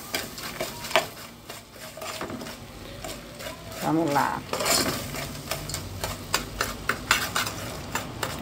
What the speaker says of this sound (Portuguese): Agora eu vou mexer.